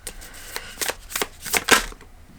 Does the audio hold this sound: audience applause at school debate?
no